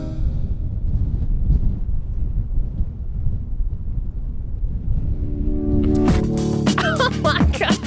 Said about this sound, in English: It's a little bit breezy out here today.